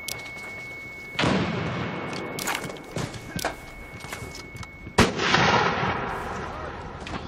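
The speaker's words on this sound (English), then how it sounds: "Tossing frag." Explosions and gunfire in a military shooter game as a frag grenade is thrown: sharp blasts and cracking shots, a heavy boom near the start and another later, with scattered impacts between.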